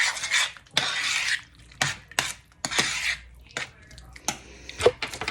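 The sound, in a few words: mixing frozen peas and carrots into thickened sauce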